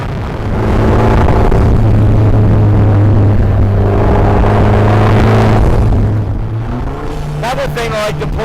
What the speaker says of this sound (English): I just love hearing this motor.